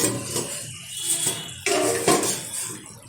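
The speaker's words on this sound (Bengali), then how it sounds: "ঢাকনাটা তুলে দিচ্ছি" A metal lid lifts off a pot of cooking shol fish curry, making a few close clinks and scrapes of cookware with soft kitchen noise between them.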